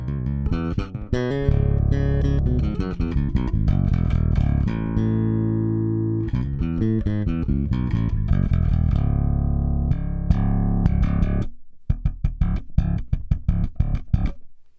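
Bass guitar played clean through a Darkglass B7K Ultra preamp plugin with no distortion, loud and upfront: sustained low notes and chords, a held tone mid-way, then a run of quick, sharply plucked notes toward the end.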